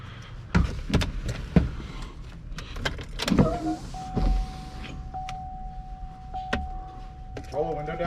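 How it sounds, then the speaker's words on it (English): A power window on an old Camaro with a 7.0L engine hums steadily as it rolls down for several seconds, a thin motor whine running under scattered clicks, knocks and brief speech nearby. "Roll the window down."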